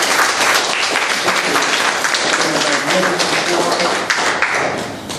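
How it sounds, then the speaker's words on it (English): Enthusiastic audience applause for Dr. Reed at a Chicago humanities lecture, dense and loud clapping filling the whole stretch before tapering slightly at the end. "let's give a big round of applause to Dr. Reed"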